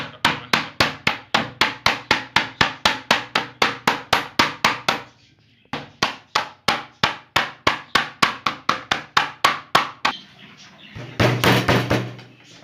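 Chicken chops pounded flat with a wooden stick: a long run of steady, evenly spaced thuds, then a brief pause and another run, ending in a short scraping rub; no talk.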